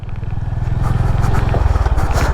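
A Honda Highness CB 350 motorcycle pulls in second gear on an off-road ride, its engine giving a loud, steady thumping beat that quickens slightly as it climbs, with wind rush over the top.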